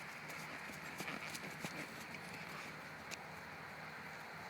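A horse walks past with faint, distant clip-clopping hooves, a few sharper strikes standing out against steady outdoor background noise.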